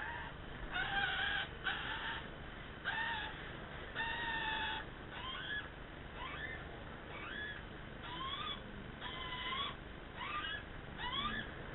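A magpie being hand fed sings a series of short warbling, fluting phrases in repeated bursts, close by against a soft outdoor background.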